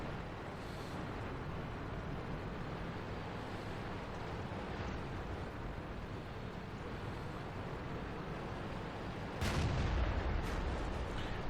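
Tank cannon in the video game World of Tanks: a steady, rushing engine-and-wind rumble, then one heavy, close boom near the end that stays louder afterward.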